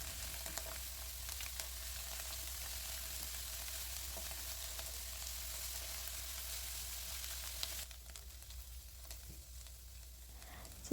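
Chopped onion and finely chopped parsley frying in a pan, a steady close sizzle with a slight drop in intensity partway through, no voices.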